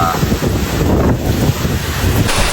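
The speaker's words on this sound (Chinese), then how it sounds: "狂风暴雨，今天" A heavy rainstorm driven by strong wind roars as a loud, constant broadband rush with a buffeting low rumble against the microphone, unbroken for the whole stretch with no voices.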